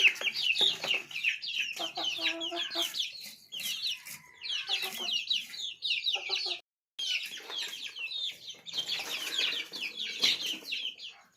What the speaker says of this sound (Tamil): இந்த கோழி ரொம்ப டிஸ்டர்ப் பண்ணும்